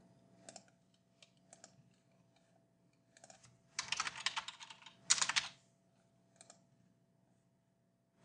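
Keys clatter on a computer keyboard in a quiet room, scattered single taps giving way to two quick dense bursts of typing, then sparse taps again.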